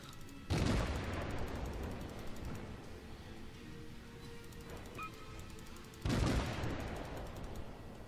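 Naval guns from World of Warships fire in two heavy booming salvos, one near the start and another about six seconds later, each followed by a long rumbling decay; a faint tone sounds between them and no one speaks.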